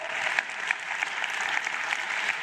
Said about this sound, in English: Applause, please, for our Minister of Basic Education